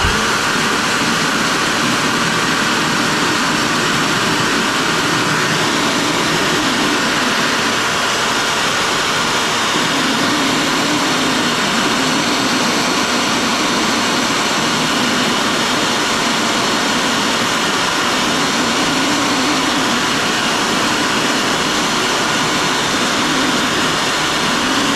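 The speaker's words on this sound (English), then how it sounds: "18-volt blower. So, I mean, this thing doesn't put out a lot of air" An 18-volt cordless blower pushes air into a car turbo, giving a steady, loud, continuous rushing whoosh with a droning whine that holds unchanged throughout, up close and with no talking.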